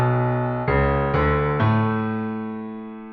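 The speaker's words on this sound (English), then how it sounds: "Here is the motif with the last note where it should be." The cave motif from the video game Link's Awakening, played with its original last note: three chiming synth notes in quick succession, the final one ringing out and slowly fading, clear and alone.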